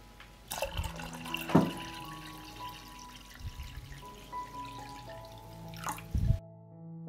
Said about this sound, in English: I pour cold water into the pot up to the level of the lid.